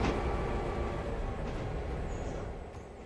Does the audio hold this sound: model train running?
yes